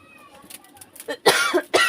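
A couple of sharp coughs burst out close to the microphone near the end, after a quieter, muffled stretch.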